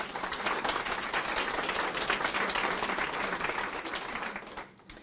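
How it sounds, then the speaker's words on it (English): A school board candidate forum audience applauds steadily, a dense wash of many hands clapping at a sustained level before tapering off near the end. "I'd like a round of applause for these people"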